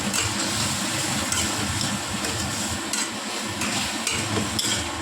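Tomatoes and spices sautéing in a pan for a thin fish curry with potato and pointed gourd, a steady close sizzle with scraping and stirring clatter throughout.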